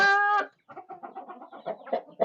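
A homestead's main chicken flock of roosters and hens, with a brief loud call at the start, then a steady stream of close clucking and chattering from many birds.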